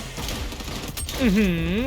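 Gunfire in the shooter game XDefiant crackles in quick bursts through the first half, after which a voice talks over the fading shots.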